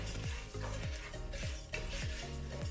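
Arborio rice with sun-dried tomatoes in olive oil being stirred in a pan over low heat, with a regular scraping rhythm of about two strokes per second over a soft sizzle, heard up close.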